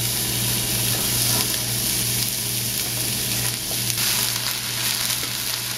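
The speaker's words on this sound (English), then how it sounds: "I'm going to go ahead and toss in my onions" Sliced sweet onions frying in a pan that was just used to warm bacon, giving a loud, steady, continuous sizzle and hiss close up throughout.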